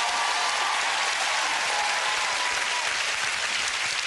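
A studio audience on the British game show All Star Family Fortunes claps in sustained, dense applause, loud and steady throughout with no pauses.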